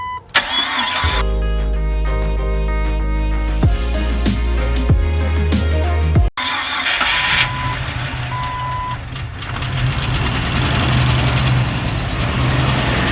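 An engine cranks over to the whine of the starter amid steady tones, then catches and settles into a loud, even idle that rumbles on steadily at close range, with no voices.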